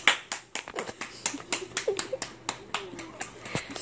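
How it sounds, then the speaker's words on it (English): An audience clapping hands along to a cha cha puppet dance, a steady rhythm of sharp, moderately close claps, about four or five per second, with faint voices in the background. "Everybody, clap your hands."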